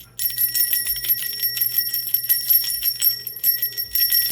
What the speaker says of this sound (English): I'm going to bell cleanse